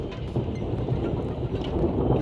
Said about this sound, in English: we've got a thunderstorm going on.